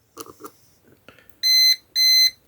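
After a few faint clicks and taps, a multimeter's continuity buzzer sounds two loud, steady electronic beeps, each about half a second long, while checking an iron's grounding.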